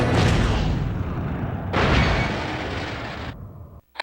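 Explosions in the Stuntman Ignition video game, two loud booming blasts in succession with rumbling tails, the second cutting off sharply before a brief quiet end.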